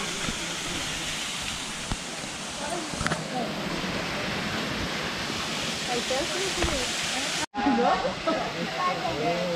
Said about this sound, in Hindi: ये है अपना छोटा सा झरना आज के लिए